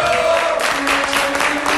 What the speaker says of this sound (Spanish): El aplauso para Entel.